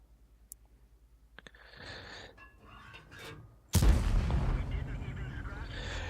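A tank cannon in World of Tanks fires an HE round with a sudden heavy boom followed by a long rumbling decay, after quieter clicks and mechanical sounds, close and loud.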